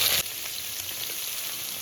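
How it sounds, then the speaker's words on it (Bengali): Onions hit hot oil tempered with black cumin and settle into a steady, close hiss of frying after a brief louder burst of sizzle at the start. "পেঁয়াজটা দিয়ে ভালো করে একটু কষিয়ে নেব।"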